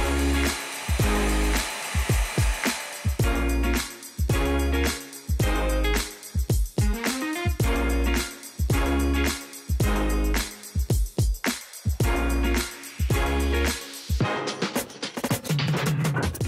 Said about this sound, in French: Il faut chauffer la partie collée à l'aide d'un sèche-cheveux